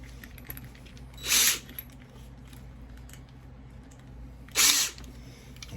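A cordless drill fitted with a straight hex bit gives two short, loud whirs spaced a few seconds apart while assembling an office chair, with quiet handling noise in between.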